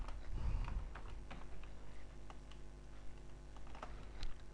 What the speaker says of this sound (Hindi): मैंने अब कीबोर्ड से कंट्रोल X को प्रेस किया